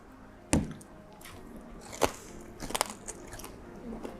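Crunchy bites into crispy deep-fried pork tail, made like Thai crispy pork belly: a loud crack near the start, another sharp bite around two seconds, then smaller crackling chews close to the mic.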